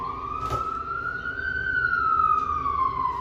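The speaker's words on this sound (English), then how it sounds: "We're gonna let the sirens go by." A wailing siren rises and falls in pitch over steady traffic rumble, loud and continuous, as an emergency vehicle passes close by.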